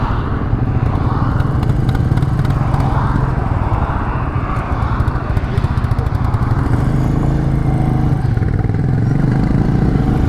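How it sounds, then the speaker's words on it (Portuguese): A Royal Enfield 350 motorcycle engine drones steadily at highway speed, with rumbling low tones and wind rushing past throughout. "Agora vamos na moto do Ricardo."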